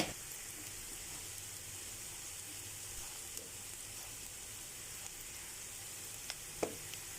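Quiet, steady sizzling of ginger garlic paste frying in hot oil, with a few faint clinks and stirring taps near the end.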